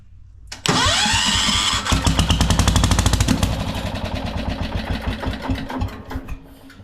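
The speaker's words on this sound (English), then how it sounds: "Now watch, it'll start, it'll crank, but then it'll die right out." A Kohler 10hp engine cranks and catches, running with a rapid rough chugging that gradually weakens and sputters out as it dies, loud and close.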